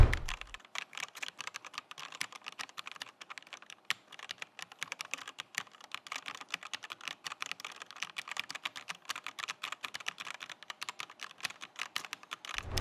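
Typing on an ASUS ROG Falchion mini 65% mechanical keyboard with ROG NX switches: a steady, fast run of crisp keystroke clicks and clacks throughout, close up with no talking.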